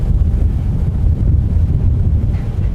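Strong gusting wind through the hills between Fairfield and Vacaville in Solano County, California, buffets the microphone with loud, continuous low rumbling and uneven surges.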